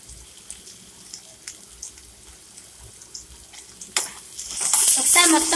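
Egg fried rice with capsicum being stirred and tossed in a pan, soft scraping clinks at first, then a loud sustained sizzle of frying that swells near the end.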